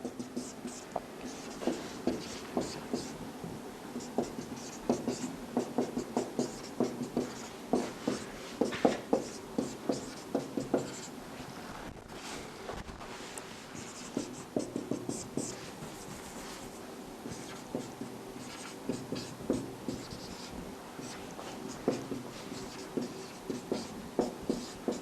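Chalk or marker writing examples on a board during a chemistry lesson, with repeated scratchy strokes and taps in irregular bursts, fairly faint against room noise, while a teacher speaks intermittently.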